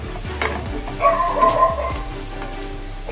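Chopped tomatoes dropped into a pan of softened, frying onions, giving a few stirring scrapes and a soft sizzle, with a low background hum and a faint tonal sound in the middle.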